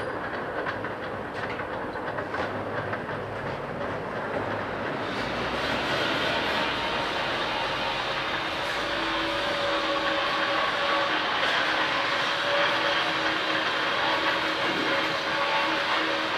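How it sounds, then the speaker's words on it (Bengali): A manual lock machine rolls a seam into sheet-metal duct, giving a steady rumbling, rattling mechanical drone that grows a little louder partway through and runs continuously with no talking. "এখন লক মেশিনে লক করা হবে।"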